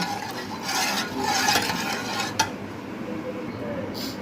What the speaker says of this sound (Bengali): এখন আমি ওই ক্যারামেলের দুধটুকু ঢেলে দিব। দিয়ে ভালোভাবে মিশিয়ে নেব।